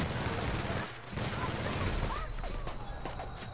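Rapid gunfire in The Outer Worlds, dense repeated shots in a fast fusillade, with a person talking over the shooting.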